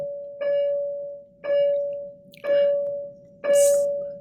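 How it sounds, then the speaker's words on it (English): Four evenly spaced bell strikes ring out, each a clear, loud tone with a sustained hum, about one second apart, with no talking over them. "Sorry about all the bells, guys."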